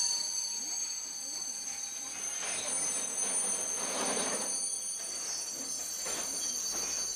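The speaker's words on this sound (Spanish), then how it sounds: "El tren de pasajeros que llega por la mañana procede de Estocolmo." Passenger train from Stockholm pulling into a station in Sweden, a steady metallic rail squeal and high ringing tones over low rumble, with soft whooshing surges as the cars roll past, no talking.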